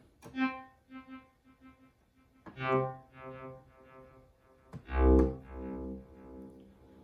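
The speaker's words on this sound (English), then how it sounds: "The first setting on the Encore is kind of like a stutter-like delay." Guitar notes repeat in quick choppy bursts from a stutter-like delay pedal setting, each plucked tone stuttering into rapid echoes before the next chord rings out.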